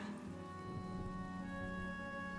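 Steady soft rain falls in the mountain scenery of Honkai: Star Rail, a continuous even hiss with faint sustained musical tones beneath, no voices.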